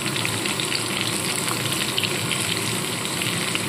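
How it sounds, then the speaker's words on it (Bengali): Plenty of chopped onion sizzles in a pan over a high gas flame, giving a dense, steady crackle and hiss without pause and no voices. "দিয়ে পেঁয়াজটাকে ভালো করে ভাজা ভাজা করে নেব"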